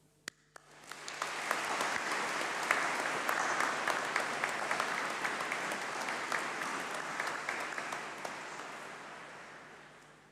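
Audience applause at a university graduation ceremony rises quickly after a brief pause, then holds as a dense, steady wash of clapping that slowly tapers over about ten seconds.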